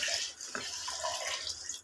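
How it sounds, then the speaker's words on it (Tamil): Water pours steadily into a pot of rice and browned mutton for biryani, a continuous splashing rush lasting under two seconds with no talk over it. "தண்ணி ஊற்றிக்கலாம்."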